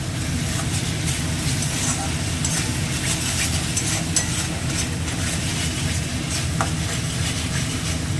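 Pomfret fish curry frying in hot oil in a pan, a steady, even sizzle that runs on without a break and sits under a voice talking through the cooking.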